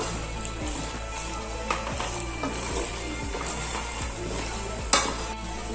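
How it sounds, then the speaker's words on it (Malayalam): Mac and cheese stirred in a pan, a steady low sizzle with repeated soft scraping strokes of a spoon and an occasional clink against the pan. "നമുക്ക് നല്ലോണം ഇളക്കി കൊടുക്കാം."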